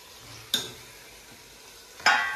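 Chopped tomatoes added to onion and ginger-garlic masala frying for chicken biryani, two quick bursts of sizzle as pieces hit the hot pan, over a faint low background hiss.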